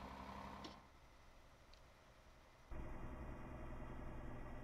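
Mercedes Axor 3240 truck engine and exhaust in Euro Truck Simulator 2, a steady low rumble that drops back briefly then returns louder and fuller, continuous and close with no talking.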